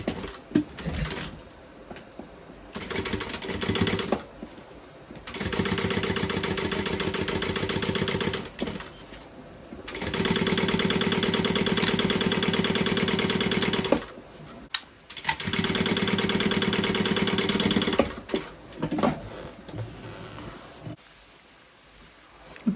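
Sewing machine stitching the slip pocket of a fold-over crossbody bag at full seam allowance, a close rapid mechanical chatter running in three long bursts separated by brief pauses, fading to quiet handling at the end.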